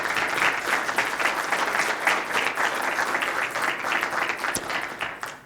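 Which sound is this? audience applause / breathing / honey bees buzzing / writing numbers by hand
audience applause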